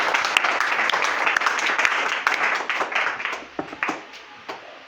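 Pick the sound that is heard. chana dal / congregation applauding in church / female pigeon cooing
congregation applauding in church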